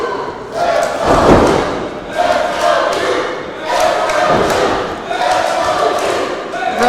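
A wrestling arena crowd cheers for Duke Hudson in waves of loud, roaring noise with heavy thuds from the ring, while a commentator talks over the din.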